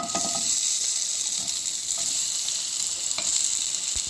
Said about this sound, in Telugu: మనం పెట్టుకున్న ఆయిల్ మూకుడులో ఇప్పుడు ఆనియన్స్ వేద్దాము